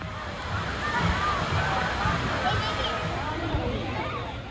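A River Rush water coaster boat rushes past riders' splashing at Dollywood's Splash Country water park, a steady loud wash of churning, sloshing water with a faint crowd murmur beneath.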